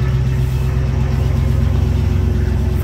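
A 1966 Ford Mustang convertible with a 289 V8 and four-speed drives along, its engine a steady, loud low rumble that fills the interior without pause.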